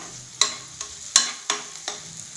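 Onions frying in a pan for a moong dal sambar, a soft sizzle broken by four or five sharp scraping strokes of a spoon stirring, close by and fairly quiet.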